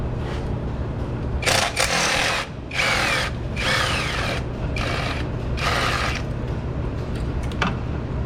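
A ratcheting tool loosens a lower 10mm bolt near a car's thermostat housing, producing five or six separate bursts of rapid mechanical whirring with short pauses between them, heard up close.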